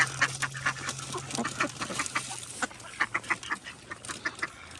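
A group of ducks being fed quack in quick, uneven bursts close by, with a low steady hum running beneath the chatter.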